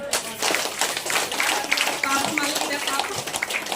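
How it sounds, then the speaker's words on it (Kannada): Dense, loud clapping from many hands fills the whole stretch, a steady crackle of applause with voices faintly mixed in. "ಆಮೇಲೆ ಜೋರಾಗಿ ಚಪ್ಪಾಳೆ"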